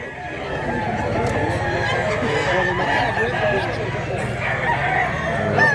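A rooster crows loudly and close by at a market in Mantalungon, Cebu, with other chickens clucking around it.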